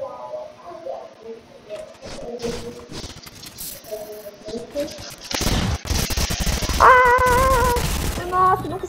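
Video game gunfire breaks out in rapid bursts of sharp shots, sparse early, then a dense volley in the second half, mixed with game sounds and tones.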